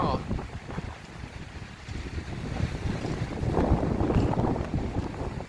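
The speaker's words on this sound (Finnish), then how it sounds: "Täällä on ihan älytön myräkkä ja lunta tulee" Strong, cold wind in a snowstorm roars and gusts continuously, buffeting the microphone with rumbling noise that swells toward the end, with no clear voices.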